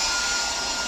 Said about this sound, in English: Let's turn on the hairdryer so you can see.